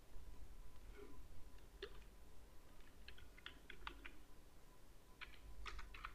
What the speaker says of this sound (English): Type your table name.